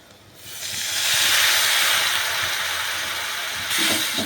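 Water poured onto a well-fried spice paste with ground cumin in a hot pan sets off a loud, sudden hissing sizzle that swells within a second, holds steady, then flares again near the end, with no voices.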